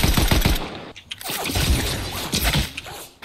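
Rapid bursts of gunfire in a video game, loud dense volleys with a brief lull before more shots, close and harsh, no talking.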